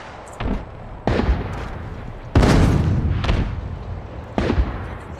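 Gunfire in a big-team-battle match of a first-person shooter video game: several loud booming shots in uneven bursts with decaying tails, and no talk over them.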